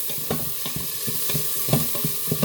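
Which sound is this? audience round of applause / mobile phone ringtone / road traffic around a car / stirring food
stirring food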